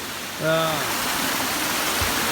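A waterfall along a mountain trail in the White Mountains of New Hampshire gives a steady, broad rushing roar throughout, with a brief voice-like tone near the start.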